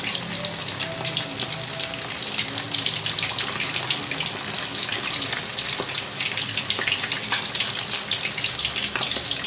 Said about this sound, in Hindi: इस साइड से मीडियम आंच पर फ्राई करते रहेंगे सारे पीसेस को